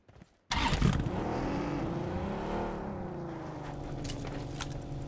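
A car driving in the PUBG Mobile battle royale game, its engine rising into a steady, loud drone after a brief quiet start and holding on throughout.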